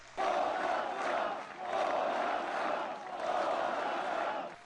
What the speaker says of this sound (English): protesters already assembling after a full day of demonstrations to begin the G20 summit